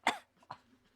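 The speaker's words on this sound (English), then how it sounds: "We have to cough into the microphone." A single sharp cough up close, followed by a softer second cough, then quiet.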